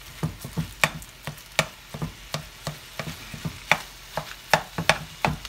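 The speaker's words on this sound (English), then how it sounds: "Hear that sizzling?" Sausage and bacon frying in a pan, a steady sizzle broken by frequent sharp scrapes and taps of stirring, close and with no voices.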